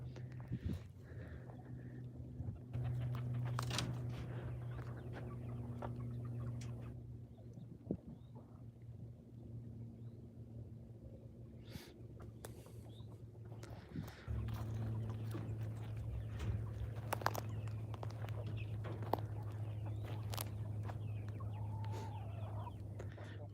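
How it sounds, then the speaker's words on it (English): Backyard hens clucking in a homestead coop, soft intermittent clucks and calls under a low steady hum and occasional wind, moderately close. "the two black little hens over there"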